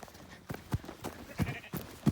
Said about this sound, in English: We go see all the other sheep.